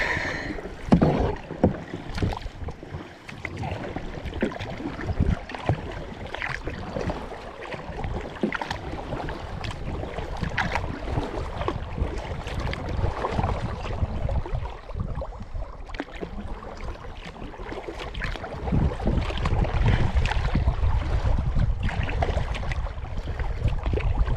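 Kayak paddle strokes dip and splash on a lake at the Lake Laurentian Conservation Area, a steady run of watery swishes and drips with light wind across the microphone, no voices.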